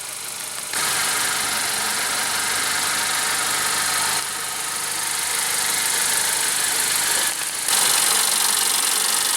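A 2015 Honda CR-V Touring with a 2.4-liter four-cylinder engine idles steadily and close, a loud even hum with two short breaks or shifts in level.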